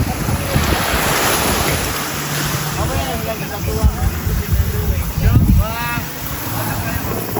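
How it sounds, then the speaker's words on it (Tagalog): Ocean waves wash and roll along a seaside shore while wind buffets the microphone in a constant roar, with people's voices talking over the surf. "dito tayo ngayon sa tabing dagat pa rin guys"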